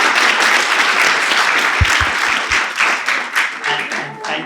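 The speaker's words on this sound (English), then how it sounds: "Please join us in a round of applause for our excellent speakers." An event audience claps for its speakers, a dense, fairly close burst of applause that stays steady and then begins to thin and fade toward the end.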